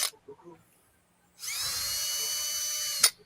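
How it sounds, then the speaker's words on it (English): Power drill boring pilot holes in acrylic for a dragon cutout, a high, steady whine lasting over a second, preceded by a few light clicks and knocks. "I'm just drilling some more pilot holes"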